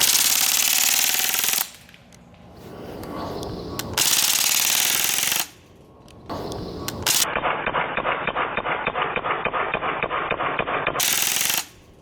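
Umarex Strike Force .177 BB blowback rifle firing full auto, loud rapid mechanical bursts of several seconds each, separated by brief pauses, the final long burst a steady fast rattle of shots.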